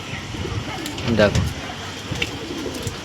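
Pigeons at a home loft coo in a soft, low bubbling run mid-clip, with faint calls before and after, under a man's nearby speech.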